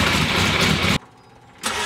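A freshly built 1275 race engine fires up and roars loudly for about a second, cuts out abruptly, then bursts back to life, heard close and alone.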